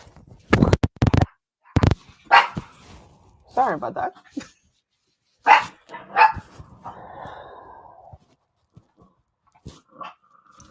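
Puppies bark and yip in a few sharp close bursts early on, then quieter whines and rustles follow, with a person speaking briefly in between.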